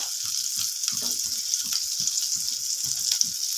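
Chopped green chilies fry on a tawa for brinjal bharta, giving a steady, close crackling sizzle with soft low thumps scattered throughout.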